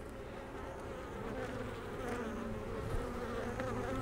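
Honey bees crawling over a hive frame being loaded with pollen and nectar, a dense, continuous close buzzing that swells slightly in loudness, with no voices.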